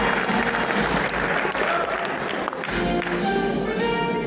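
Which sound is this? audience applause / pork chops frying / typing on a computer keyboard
audience applause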